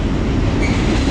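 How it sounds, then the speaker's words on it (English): A Burlington Northern freight train rolls past close by, a loud, steady rumble of wheels and rail noise with no break. "We got a freight train coming through."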